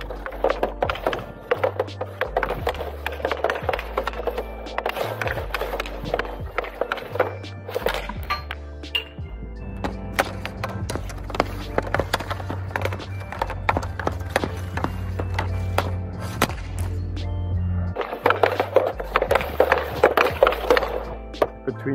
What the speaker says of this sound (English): This one feels like just kind of sliding off your blade, and it has a different clingy noise.